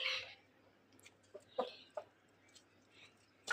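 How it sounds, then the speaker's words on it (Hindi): A few short, faint clucks from a rooster, scattered sparsely over a quiet background. "पहले आप मुर्गा चेक कर लें।"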